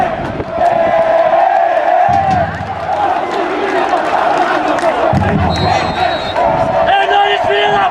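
Guarani football fans in a stadium during a match against Barueri loudly chant abusive insults in protest, a massed roar of rhythmic shouting voices filling the air.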